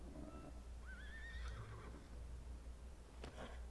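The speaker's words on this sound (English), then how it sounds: "Oh, it's a horse." A horse in Kingdom Hearts III gives one clear, rising and falling whinny near the middle, with soft hoof clip-clops and game ambience around it and no talking.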